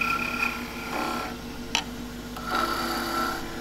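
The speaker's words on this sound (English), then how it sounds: "The planing cut across the top of the bead." A wood lathe takes a planing cut across the top of a bead on a turned wooden salt scoop, a soft continuous rubbing hiss with faint tonal whine and a brief sharp tick partway through.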